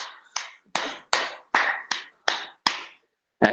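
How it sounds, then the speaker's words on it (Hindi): Hands clap eight or nine times in a steady rhythm, sharp and close, closing a group yoga dance exercise, with a brief pause before the final clap. "ताली बजाने के साथ"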